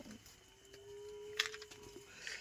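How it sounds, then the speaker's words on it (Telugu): Punganur and Ongole cattle being loaded onto a truck, with a faint, distant, drawn-out low moo held for nearly two seconds against quiet outdoor background. "ఆవులు అయితే కట్టిస్తా అనేసి వచ్చి కట్టిస్తున్నాడు మా మార్కస్."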